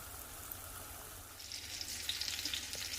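Chicken cutlets frying in a pan give a faint, steady sizzle that brightens into a crackling hiss partway through, quiet and close with no talking.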